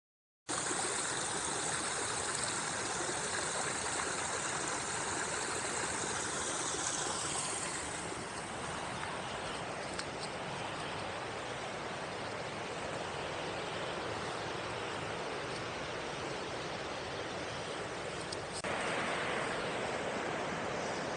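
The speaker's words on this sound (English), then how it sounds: "this is one of the waterfalls along the Blackstone River" Waterfall on the Blackstone River pouring in a steady, full roar that fills the whole clip, heard close and alone with no voices.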